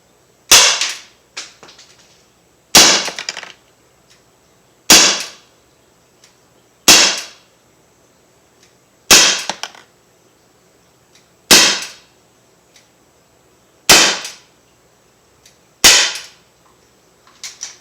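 Umarex SA-10 .177 caliber air pistol firing eight sharp, loud cracks spaced roughly two seconds apart, each with a brief ringing tail, and near silence between shots.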